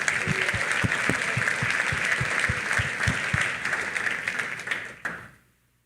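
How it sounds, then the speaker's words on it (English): Event audience applauding for about five seconds, a dense steady wash of many hands with a few sharper claps standing out, then tapering off quickly to silence. "So please join me in giving Julie and Lance a round of applause"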